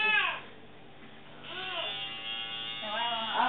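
An electric hair clipper running at home: a steady, fairly close buzzing hum that swells and dips as it moves, with voices talking over it.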